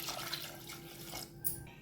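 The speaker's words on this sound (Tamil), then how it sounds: "உங்களுக்கு தேவையான அளவு தண்ணி ஆட் பண்ணிக்கோங்க" Water is poured into a pressure cooker holding half a kilo of mutton, a soft, steady splashing trickle that stays quiet and close, with no talk.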